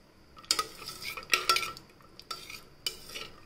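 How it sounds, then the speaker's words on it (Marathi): Cashews and almonds being fried in ghee in a pan, heard as a few sharp clinks and scrapes of a spoon stirring against metal at close range, with no speech. "आता तुपामध्ये आपण काजू, बदाम, तुमच्याकडे जे काही ड्रायफ्रूट असेल ते टाका आणि तळून घेऊया"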